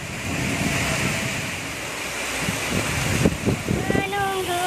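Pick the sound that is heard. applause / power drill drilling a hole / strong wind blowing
strong wind blowing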